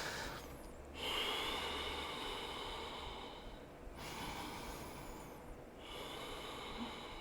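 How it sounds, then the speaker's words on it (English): Slow, deep yoga breathing during a strong vinyasa flow, long airy inhales and exhales with brief pauses between breaths, close and soft. "Can you hear yourself breathe?"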